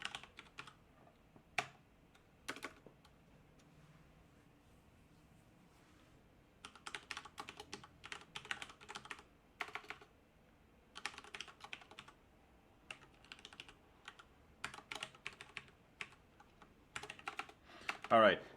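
Typing on a computer keyboard in a quiet room: quick, close bursts of key clicks in irregular clusters with pauses between, fairly faint overall.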